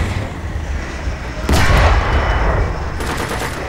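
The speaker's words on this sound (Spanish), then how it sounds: "lo maté con la ametralladora" Gunfire in a video game, a sudden loud burst of shots erupting mid-clip after a steady background rumble, continuing briefly and then fading back.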